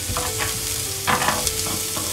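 Onions and garlic fry in a pan and are stirred, producing a close sizzle with a few scraping spatula strokes and a faint steady tone underneath, with no voices.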